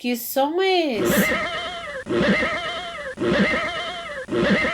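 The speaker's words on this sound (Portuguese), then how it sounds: "É o cavalo." After a brief spoken question, a horse neighs in several repeated whinnying calls of similar length, loud and close, with short pauses between them.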